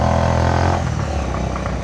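A Bajaj Avenger cruiser motorcycle on an uphill road in Lebong, its exhaust giving a loud, close, deep throbbing rumble at low throttle that shifts pitch midway as the engine eases off, steady with no pauses.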